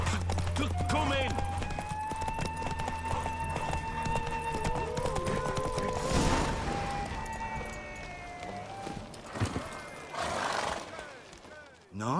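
Hoofbeats of a horse racing in The Witcher 3, with neighs and whinnies over steady game music and ambience, while a voice speaks partway through.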